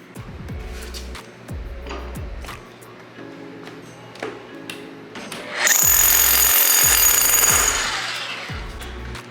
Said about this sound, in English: So this is actually a demolition hammer, where instead of a drill bit, you put a chisel, and that's why it's not turning.